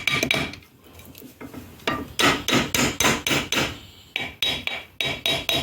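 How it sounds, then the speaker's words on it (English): A steel hammer taps repeatedly on an outboard motor part to knock it loose, about a dozen sharp, close metallic strikes in a fairly steady rhythm with a brief pause midway. "so we'll just tap it off with a hammer."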